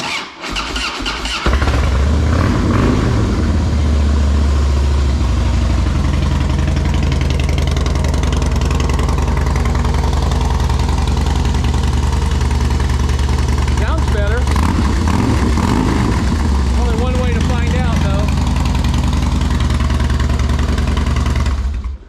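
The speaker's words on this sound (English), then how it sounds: "let's start the Harley now" A Harley Night Train motorcycle with new spark plugs cranks, fires up and settles into a loud, close, rumbling idle that holds steady, with small throttle blips along the way.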